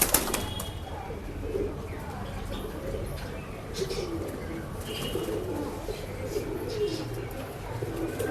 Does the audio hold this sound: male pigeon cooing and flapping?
yes